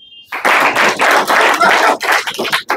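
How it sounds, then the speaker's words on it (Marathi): An audience at a Rotary interview event breaks into applause, a loud, sustained burst of many hands clapping that rolls on with slight surges and dips after a brief tone at the start. "परत एकदा टाळ्या."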